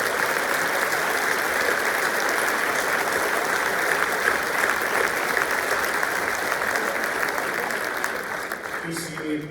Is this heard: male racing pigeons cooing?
no